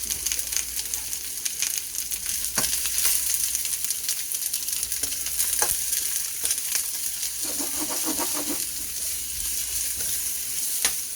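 Raw onions cooking in a pan for a steak sandwich, a continuous close sizzle with occasional stirring clicks and scrapes, no voices.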